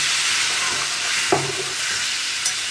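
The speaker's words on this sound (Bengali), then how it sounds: "মশলাগুলো ভাজা হবে, একটু ইয়ে হবে, আলুর সঙ্গে মিশে যাবে" Spiced potato fries sizzle steadily in a pan after a splash of water, a loud, even frying hiss with a brief crackling burst partway through and no talking.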